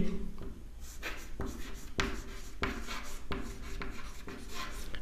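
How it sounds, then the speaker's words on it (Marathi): Pen or marker scratching out numbers by hand on paper during a 4th-standard maths lesson, steady rubbing strokes in short bursts, close and fairly quiet with no talk. "पहा कसं लिहितोय मी त्या ठिकाणी"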